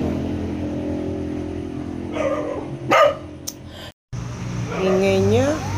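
A dog barks a few times at close range, its yaps mixed with background noise and other animal sounds.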